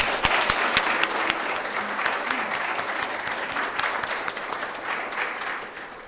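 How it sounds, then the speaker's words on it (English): Room of attendees clapping at a chamber of commerce board installation event, many distinct individual claps forming sustained applause that gradually thins and quiets toward the end. "Let's give these individuals a heartfelt round of applause."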